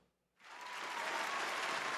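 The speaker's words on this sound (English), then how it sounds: "Round of applause." After a brief quiet moment, applause erupts from a crowd at a raffle drawing, rising quickly into sustained, dense clapping that holds steady.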